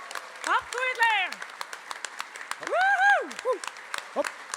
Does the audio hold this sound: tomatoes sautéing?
no